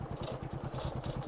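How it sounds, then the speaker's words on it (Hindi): An old, rattly borrowed motorcycle rides along a village road, its mid-pitched engine pulsing in a fast, steady chug with a faint clatter, close and continuous. "ये मामा की बाइक लेके आए हम। बड़ी खटारा बाइक है"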